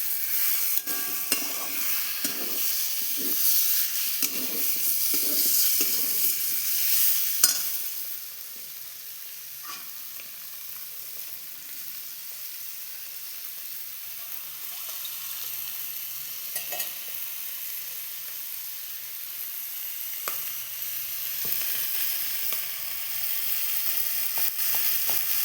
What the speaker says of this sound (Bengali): চিকেনটা ভালো করে কষে নেব।